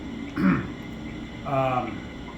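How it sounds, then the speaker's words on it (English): A man clears his throat twice, two short rough bursts about a second apart, close and moderately loud over a faint steady background hum. "I'm trying to clear my throat a little bit, as you can tell."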